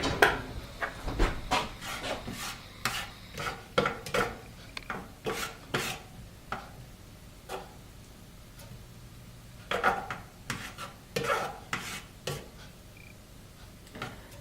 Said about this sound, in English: The fat is almost melted, so I'm going to stir it around